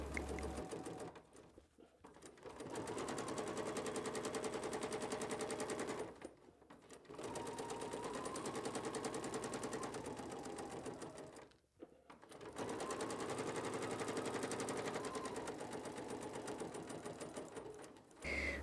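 A sewing machine runs in steady bursts of rapid needle stitching while free-motion quilting a block with a ruler foot, three long runs split by short pauses, close and alone.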